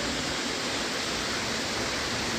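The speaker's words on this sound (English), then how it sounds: "Waterfall." Small waterfall at Maraetotara Falls spilling over a pipe, a steady broadband rush of falling water heard close and alone, without pauses.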